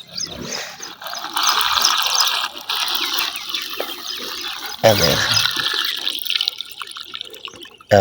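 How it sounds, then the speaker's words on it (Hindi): Water runs from a tap in a steady hissing rush for several seconds, pausing briefly and resuming, with voices talking over it. "पानी जा रहा लेकिन भरी नहीं जा रहे"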